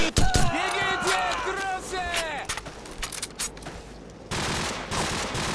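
Rapid bursts of automatic gunfire and single shots ring out in the Call of Duty 4 video game, loud and close, with voices calling over the shooting and a steady rumble of battle noise underneath.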